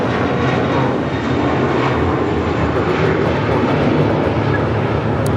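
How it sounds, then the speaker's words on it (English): A JetBlue Airbus A321 jet departs Los Angeles International Airport bound for JFK, its engines producing a steady, loud, broadband roar that holds throughout without pause. "That was JetBlue 320 forward departing to JFK on an A321"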